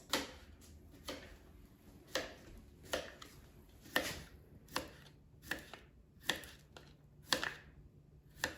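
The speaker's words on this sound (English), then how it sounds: "I'm just going to cut off the ends and slice cucumbers into thin slices." A knife slices a whole unpeeled cucumber into thin rounds on a board. The crisp cuts land close and clear in a steady rhythm of about a dozen strokes, with no talking.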